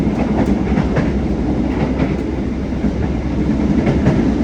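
Loud, steady rumble of a departing KA Motis Nataru Tengah train in Indonesia, with rhythmic clickety-clack of wheels on rails, heard from inside a carriage.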